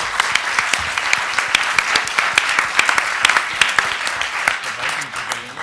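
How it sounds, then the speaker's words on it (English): A lecture audience breaks into applause in a hall, steady dense clapping with sharp individual claps standing out, sustained for several seconds at moderate loudness. "How about a round of applause?"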